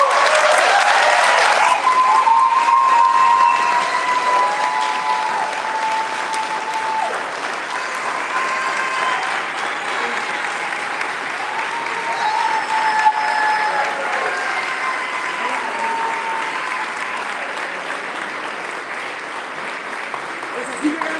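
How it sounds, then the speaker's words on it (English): Applause from an audience at the Esperanza Award 2024 event in St. Louis, Missouri, begins loud and full, then settles into sustained clapping with faint voices and whistles over it for about twenty seconds. "Applaud the immigrants who persevere despite the odds, and applaud those who fight for them"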